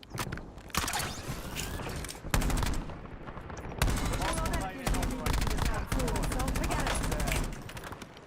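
Rapid gunfire and machine-gun bursts from the Warzone video game run loud and nearly continuous, with dense cracks and rattling over game effects and voice callouts.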